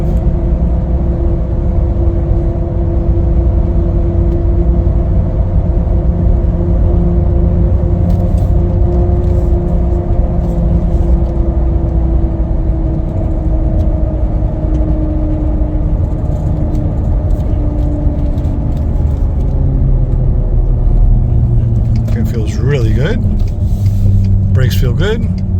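A lifted 2017 Ford F150 XLT 4WD crew cab pickup driving, loud steady engine drone and road rumble from inside the cab with slowly shifting engine tones, and a brief rattle near the end.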